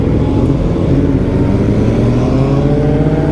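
A motorcycle rides along the B500 road through the Black Forest. A loud, steady engine drone holds close and continuous with a slight rise in pitch, and there is no speech.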